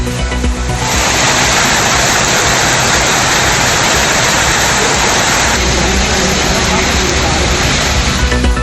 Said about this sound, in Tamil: மயிலாடுதுறை மாவட்டம் சீர்காழி சுற்றுவட்டார பகுதிகளில் வெளுத்து வாங்கிய மழை.